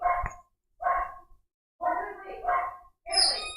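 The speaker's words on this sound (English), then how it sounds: "every time I stream, the dog goes nuts." A dog barks in several short bursts, some sharp and yappy, fairly close and moderately loud, with brief pauses between them.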